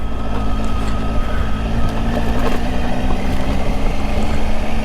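A dirt bike engine drones steadily and loudly while riding a rocky trail in Mendocino National Forest, with wind buffeting the microphone throughout and no talking.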